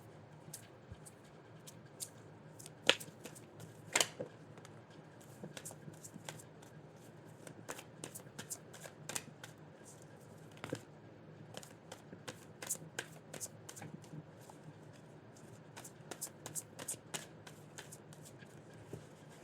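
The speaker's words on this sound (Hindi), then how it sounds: "चलिए फिर से एक बार शफल करते हैं" Tarot cards being shuffled by hand, soft papery riffles and flicks in irregular bursts over about twenty seconds, quiet and close with a faint background hum.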